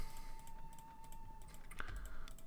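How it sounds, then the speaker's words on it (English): Loud computer mouse clicks tick sharply and irregularly during a Mount and Blade: Warband Viking Conquest session, close and dry over a faint steady hum. "So I'm going to keep talking so I can try and muffle the sound of my very loud mouse"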